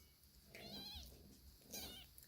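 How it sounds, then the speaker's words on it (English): Two thin, high kitten meows, one near the start and another near the end, close by with quiet shuffling in between. "Yep, they just meow."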